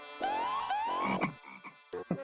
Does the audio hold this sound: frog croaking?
yes